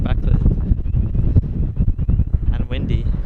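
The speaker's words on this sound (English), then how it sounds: "It's very windy." Strong wind at Sydney Airport buffets the microphone in loud, continuous rumbling gusts, with faint aircraft and background noise beneath.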